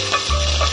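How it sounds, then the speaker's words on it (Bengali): Vegetables with a little tomato are stirred in a pan for chowmein, a short burst of scraping and sizzling with a steady low hum underneath. "এরপর সব কটাকে ভালো করে খুব নাড়িয়ে নেব।"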